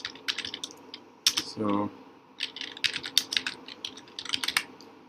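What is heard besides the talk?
typing text on a computer keyboard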